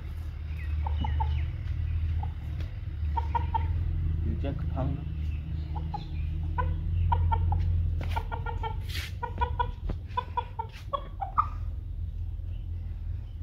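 Chickens, including fighting cocks, cluck and squawk in short bursts near a constant low rumble, with a person talking in between.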